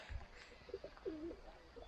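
Pigeons cooing from a walnut tree outdoors, a few soft, faint low coos over about two seconds with quiet background ambience.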